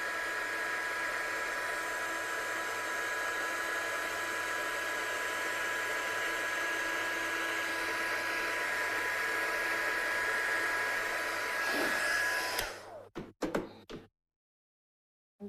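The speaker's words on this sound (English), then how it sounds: "I'll just heat set this one." A heat tool blows a steady, loud broadband roar for about twelve seconds while heat-setting a bleached tone-on-tone craft piece, then cuts off with a few clunks as it is set down, leaving silence.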